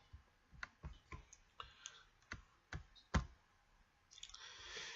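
A computer mouse clicks repeatedly as options are selected in Minitab statistical software, giving about ten crisp, close clicks at irregular intervals and no talk.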